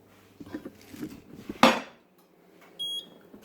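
A wok, actually a shallow Le Creuset dish, is handled and set down on the stove with soft clinks and scrapes, then one loud metallic clatter, followed by a short electronic beep.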